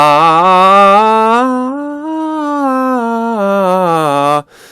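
A trained singer sustains a vowel during a voice lesson, sliding through the passaggio from chest voice into head voice. The pitch rises and falls in one continuous phrase, loud and solo, then cuts off near the end.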